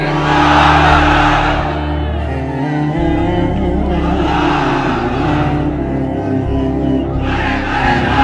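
A large crowd at a religious gathering chants takbir in reply, loud roaring bursts of many voices rising and falling in about three waves.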